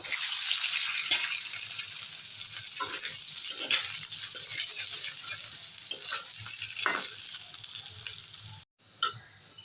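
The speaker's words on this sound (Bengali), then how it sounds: "এই তেলে আলুটাও ভেজে নেবো" Potato pieces frying in hot oil in a pan for a Bengali rita fish curry, giving a steady, close sizzling hiss with occasional stirring scrapes throughout and a brief break near the end.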